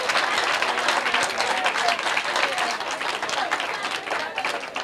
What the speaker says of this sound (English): Clap for yourself and for them.